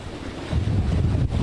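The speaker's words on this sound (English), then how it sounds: "Gotti, you were experiencing roughly 60-mile-per-hour wind gusts" Strong coastal storm wind gusts of around 60 miles per hour roar and buffet the microphone in a loud, continuous rush that swells partway through.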